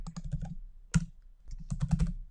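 Quiet, close computer keyboard typing in quick clustered bursts of clicks with a short pause between them.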